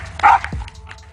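A dog fighting a lion lets out a sharp, loud bark followed by a quick yip and softer whimpering noises, close and brief.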